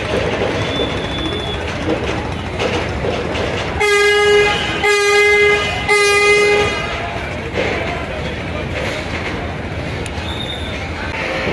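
Two passenger launches, Prince Awlad 10 and MV Sundarban 16, back out together at a busy river ghat, bound for Dhaka. Three loud, long horn blasts sound over a steady rumble of engines and crowd noise.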